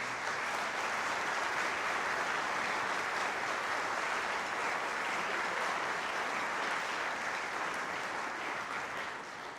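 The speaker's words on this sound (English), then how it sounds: "So a round of applause for our state participants." Loud, sustained applause from a high school band and orchestra concert audience, dense clapping continuing steadily for the whole stretch with no talking over it.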